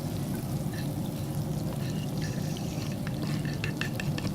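Ingredients sizzle steadily in melted butter in a pan on a Traeger Timberline 850 grill, a constant close frying hiss with small crackles and pops.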